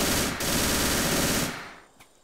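MG42 machine gun fire in the jungle in Arma 3: a loud, dense continuous burst lasting over a second, briefly broken, then cutting off into a fading tail and one faint distant shot.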